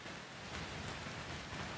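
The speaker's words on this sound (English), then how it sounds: "the Blood Rain's been happening for a little while now in the game" Blood rain falls in the horror video game Outlast 2, a steady, even hiss of rainfall with no voices over it.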